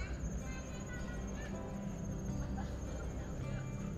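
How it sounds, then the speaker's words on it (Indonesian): Crickets chirp in a steady, fine trill around a hotel in Bandung at night, with faint voices and background hum blending underneath. "Jangkrik."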